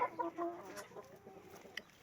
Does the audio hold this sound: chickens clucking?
yes